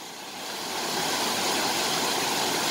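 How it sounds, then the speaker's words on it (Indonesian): Steady, full rushing roar of the fast-flowing Kali Glondong river stream, close and continuous and swelling slightly at the start, with no voices. "Makanya makin ke bawah makin deras sungainya."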